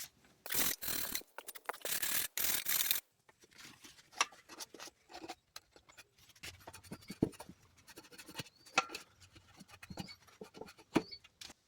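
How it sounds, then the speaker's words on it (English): Wire brush scrubbing the metal mounting surfaces of a riding mower deck during a spindle replacement: three seconds of loud, harsh rasping strokes, then quieter, scattered scratches and ticks. "now just clean up the mounting surfaces. I'm going to grab a wire brush."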